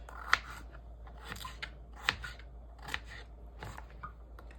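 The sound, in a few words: knife dicing potatoes into pieces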